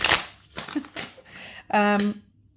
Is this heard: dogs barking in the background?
no